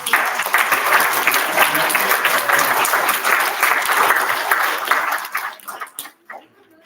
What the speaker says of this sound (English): So can we give one more round of applause for everyone?